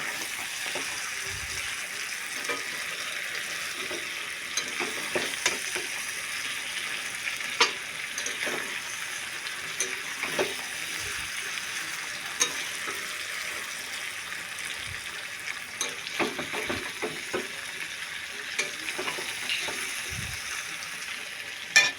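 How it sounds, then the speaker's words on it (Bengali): Poppy seed paste sautéed in a pan while cooking chicken, a continuous moderate sizzle broken by frequent scraping and clacking stirs of a utensil against the pan, with no voices. "তো পোস্তটা আমরা অনেকটা কষিয়ে নিচ্ছি ভালো করে।"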